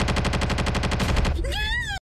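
Rapid, evenly spaced gunfire bursts rattle loudly for over a second, then give way to a rising, wavering whine before cutting to silence.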